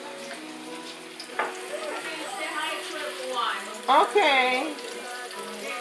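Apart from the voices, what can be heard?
pork frying in hot oil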